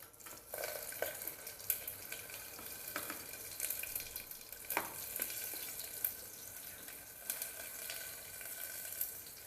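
Whole spices and bay leaf sizzle in hot oil in a pan, a soft steady crackle with scattered sharper pops and a few clinks of stirring, heard close and without talk.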